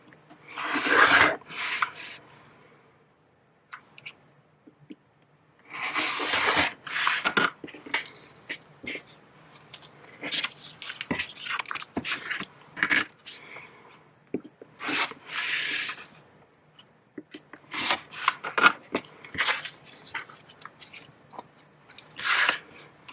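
Pieced fabric for a broom quilt block being trimmed makes close, rasping cutting and rubbing strokes in separate bursts, with quiet pauses between the passes.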